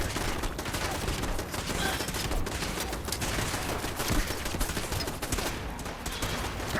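Gunfire in Fallout 4 crackles as dense, continuous bursts of shots throughout, loud and close, with faint voices mixed in underneath.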